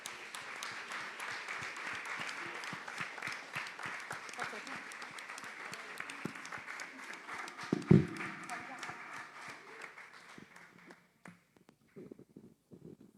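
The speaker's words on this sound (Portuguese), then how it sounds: "Aplauda o Senhor." A church congregation applauds steadily during an evangelical worship service, dense clapping filling about ten seconds, with one sharp knock near the middle, then the applause fades into scattered claps as voices begin.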